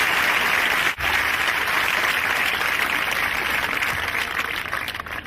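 Comedy show audience applauding, a dense sustained wash of clapping from a large crowd that runs without a break, with one brief dip early on.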